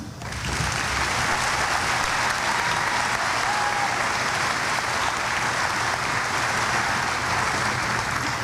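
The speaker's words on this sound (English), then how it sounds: "You're too quick with the applause." A commencement audience claps loudly and steadily, a dense wash of applause that begins abruptly and keeps going without a break.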